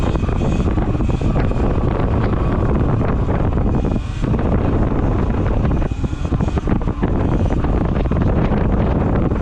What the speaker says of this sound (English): What was that wind?